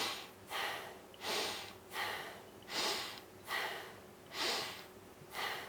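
Steady nasal breathing close up, about seven soft airy breaths in a slow, even rhythm with no talking.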